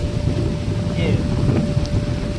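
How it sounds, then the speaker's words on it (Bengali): Steady, blustery wind sweeps across open rice paddy fields in the countryside, a constant low rumble buffeting the microphone with no break. "আর বন্ধুরা হাওয়া দেখো"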